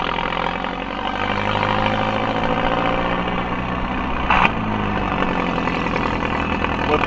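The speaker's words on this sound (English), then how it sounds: "let the car warm up for a second." A car engine idles steadily while warming up, a constant low rumble with a brief sharp noise partway through.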